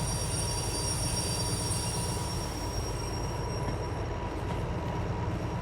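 Train brakes dragging and squealing in the Derail Valley railway simulator, a continuous high metallic screech over a low rolling rumble, steady and close throughout with no talk.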